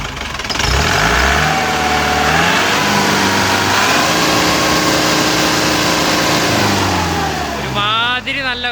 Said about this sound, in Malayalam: റേസ് ചെയ്തേ